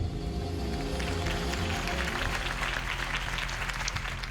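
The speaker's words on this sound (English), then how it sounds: "If only Mr. Wayne, my campaign's largest backer, could have heard that applause" A crowd applauds after a campaign speech in the Batman Telltale Series video game. The clapping swells from a low background hum into broad, steady applause.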